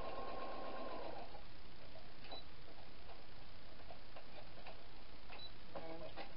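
A sewing machine stitches Christmas fabric for a 1970s-style apron, running in a faint rapid ticking burst at the start, then stopping and starting in short soft runs with small clicks.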